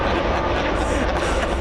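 Lufthansa Airbus A380 taking off at LAX, heard as a steady, loud broadband jet roar that fills the whole stretch without letup.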